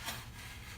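A utility knife slices through the paper facing of drywall while patching a hole in a wall, a short, close scraping rasp that swells at the start and then drags on evenly.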